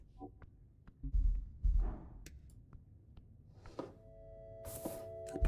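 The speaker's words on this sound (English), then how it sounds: "Why is there a rhythmic thumping noise here? It's coming from inside the box." Rhythmic thumping comes from inside a crate, a few dull, low, muffled thuds spaced irregularly over a quiet background, with faint rustling and a brief higher tone near the end.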